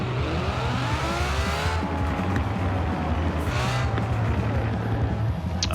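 Ferrari 599XX Evo drag-tuned in Forza Horizon 4, its engine roaring loud and steady as it accelerates down a drag track, rising through gears with sweeping pitch climbs and no talk.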